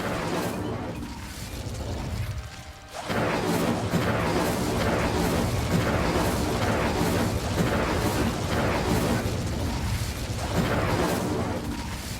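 An Incendio fire spell cast in Hogwarts Legacy, a sharp onset that gives way to a sustained roaring, crackling whoosh with rhythmic surges, loud and continuous.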